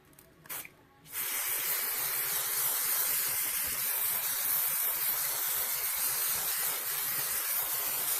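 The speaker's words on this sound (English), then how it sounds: "I am going to spray on here first" An aerosol can hisses in one long continuous spray onto a book, steady and close after a couple of brief knocks at the start.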